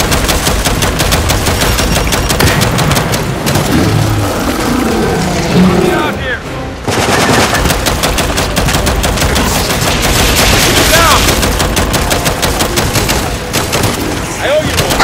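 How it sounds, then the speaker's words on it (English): Loud, sustained automatic gunfire in a Gears 5 campaign battle against a carrier, dense bursts of shots with explosions and vehicle noise, briefly dipping midway, with characters shouting over the din. "Just keep firing!"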